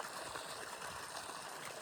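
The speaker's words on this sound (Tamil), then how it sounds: "அதுக்கு தான் தண்ணி போயிட்டுருக்கு" Water flows into an organic paddy field on a farm, a steady rushing, trickling wash that stays constant and fairly faint throughout, with no one talking.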